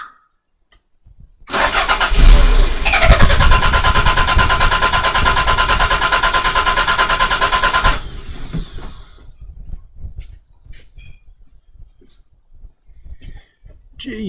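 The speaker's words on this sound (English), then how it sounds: "let's do the same thing again now, but I'll keep cranking" A Toyota MR2 engine cranks with a loud, steady starter whir for several seconds, then stops, leaving uneven low pulsing and faint knocks.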